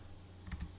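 Brief typing on a computer keyboard while logging into a JetBot system: a couple of quick, soft key clicks close by in a quiet room.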